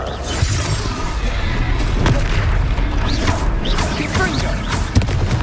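A Confringo fire spell blast during combat in Hogwarts Legacy: dense, continuous booming and shattering impacts with crackling debris, loud and sustained, with a brief shouted voice mixed in.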